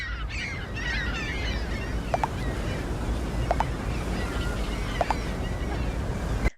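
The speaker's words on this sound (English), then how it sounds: "it sounds like there are more seagulls than there were before" Several high, harsh seagull cries break out near the start, with a few sharper calls later, all over a steady rush of wind or water.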